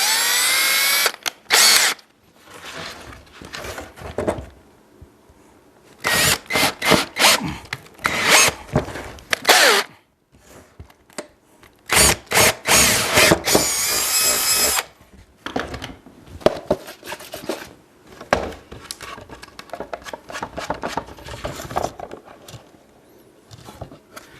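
A power drill whines in repeated bursts, stopping and starting as it bores into wood, with short pauses between runs.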